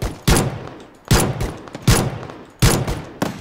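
Pistol gunfire in PlayerUnknown's Battlegrounds on a private server: five loud, sharp shots in an uneven rhythm, each with a short, decaying tail, close and without speech.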